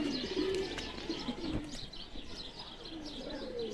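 Teddy pigeons coo steadily in a rooftop loft in Lahore, soft repeated throaty calls close by with occasional chirps and light background hum, no talking.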